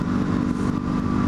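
Motorcycle engine held at steady revs during clutch-up wheelie practice, a loud continuous droning rumble with some rattling clatter, close by and without pause.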